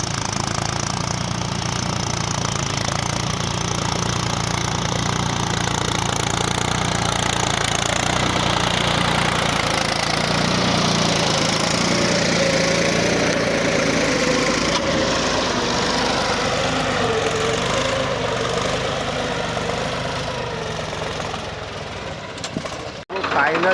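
A tractor engine runs continuously in a farm field, a steady close drone and rumble lasting throughout, with a voice talking over it.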